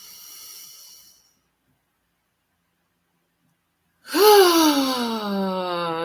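Breaths from a deep breathing exercise: a soft exhale fades out, followed by several seconds of silence, then a loud, close, drawn-in breath with a voiced, gasping edge that trails off slowly.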